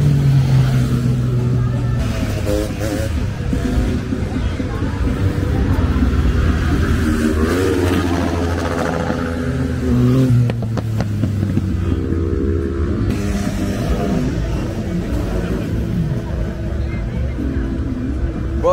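Cars and motorcycles at a street race in Las Palmas, Medellín, engines droning and revving continuously up close with pitch sweeps as vehicles accelerate past, a horn honking at points.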